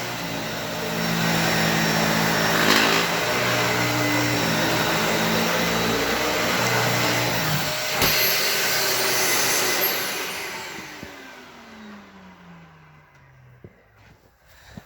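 Dyson Ball Animal 2 vacuum cleaner sucking up a large clump of debris: a loud, steady motor roar that holds for about ten seconds, then winds down and fades out, with no talking.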